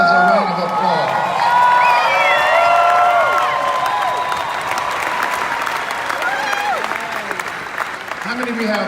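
A large audience at a motivational seminar breaks into loud sustained applause mixed with cheering and whoops, fading slightly toward the end.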